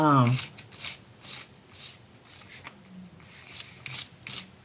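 A hand rubs over a wrinkled brown paper bag being turned into faux leather, making repeated rasping, scratchy strokes in an even rhythm, close and fairly loud, with a brief voice at the start.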